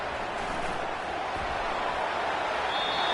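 A dense, steady roar of a stadium crowd fills a College Football 25 video game broadcast, a constant wash of noise that builds faintly toward the end.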